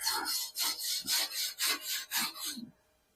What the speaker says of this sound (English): Let's give it a quick wire brush.